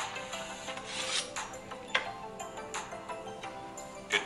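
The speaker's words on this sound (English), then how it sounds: "Take your favorite knife, a couple of passes, hit it with the stones." A kitchen knife is drawn a few times through an Edgeware pull-through sharpener with stones, giving short scraping rasps and light clicks, close and fairly quiet, with no talking.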